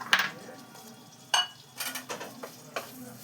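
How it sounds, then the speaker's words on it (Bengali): A spoon stirs raw flour in a cooking pan for a creamy prawn and mushroom dish, giving soft scraping strokes and a few light metallic clinks, close and fairly quiet. "জাস্ট ময়দাটার কাঁচা ভাবটা তোলার জন্য একটুখানি নাড়িয়ে নিচ্ছি"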